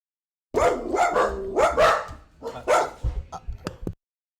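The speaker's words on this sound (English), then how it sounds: "Sorry about my dogs." Several loud, close dog barks in quick bursts, with some higher yips and whines toward the end.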